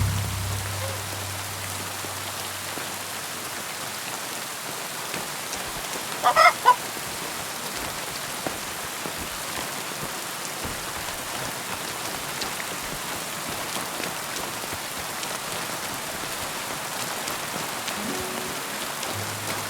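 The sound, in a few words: heavy rain in video game Kingdom Come Deliverance 2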